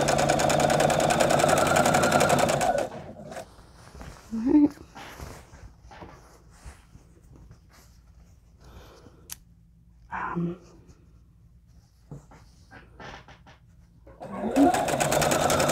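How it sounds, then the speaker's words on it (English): A sewing machine backstitches the corners of a nine-inch quilt block for a charity crib-size quilt, running loud and close in a steady burst at the start and again at the end, with a quieter stretch of faint handling noises between. "That is why I'm back stitching them, at least at the start."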